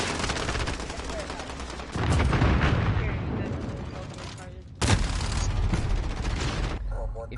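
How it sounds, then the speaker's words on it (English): A cruise missile launch in Call of Duty Warzone: loud, sustained booming roar with a sharp second blast midway, rumbling continuously throughout, with a voice talking over it. "Cruise missile, go for launch."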